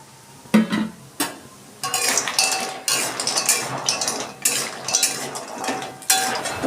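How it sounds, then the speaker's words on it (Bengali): Bori drop into hot mustard oil in a kadai, with a spatula clattering and scraping against the metal in uneven bursts over a bright frying crackle, close and fairly loud. "আমি বড়িগুলো দিয়ে দিচ্ছি তেলটা গরম হয়ে গেছে"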